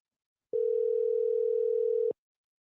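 A steady telephone dial tone comes on after a dropped call and holds at an even pitch for about one and a half seconds before cutting off abruptly, loud and clear with no talking.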